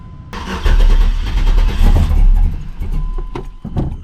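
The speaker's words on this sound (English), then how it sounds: "I'll start it up and let it idle for just a minute." An LS-swapped Chevrolet Caprice, a box-body custom cruiser, cranks and fires up close and loud, then settles into a steady rumbling idle with small throttle changes.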